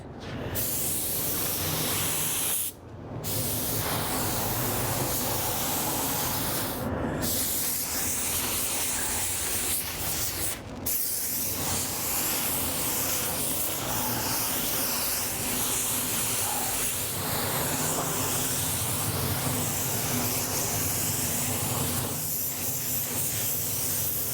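Spray gun spraying paint onto a classic Ford Bronco body, a loud, continuous broadband hiss broken by three or four brief pauses between passes, close and steady throughout.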